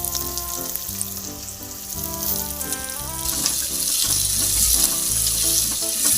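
Shallots and garlic sauté in a pan for nethili (anchovy) fish curry, giving a steady, close sizzle that swells louder partway through, with tonal background music underneath.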